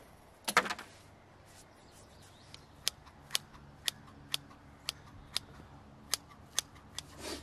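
Garden shears or secateurs cut back straggly creeping phlox outdoors, giving a few close initial snips and then a regular series of sharp, crisp clicks about every half second, with no talking.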